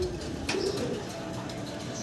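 Pigeons coo close by in a market, one soft throaty call standing out over a low, continuous background hum.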